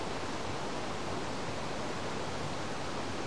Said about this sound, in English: I love the sound of rushing water over a weir.